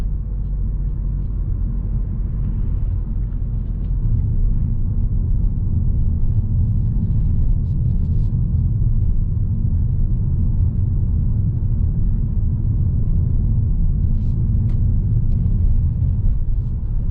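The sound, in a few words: 2019 Mazda 3 hatchback accelerating at night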